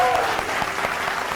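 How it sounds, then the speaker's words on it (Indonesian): A talk-show studio audience claps in a short, even burst of many hands, moderately loud and continuous without any speech over it. "Tepuk tangan."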